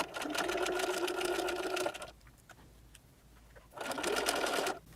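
A sewing machine stitches a fabric face mask in two whirring runs, a longer burst then a short pause of faint handling clicks before it starts again, close and steady with no voice.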